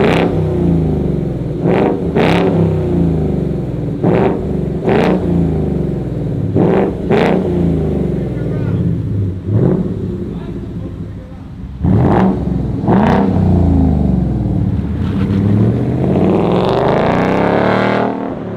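A 5.0 Ford Mustang with a Muffy D style exhaust is revved repeatedly up close, a series of sharp loud throttle blips with brief pauses at idle between them, ending in a longer rising rev.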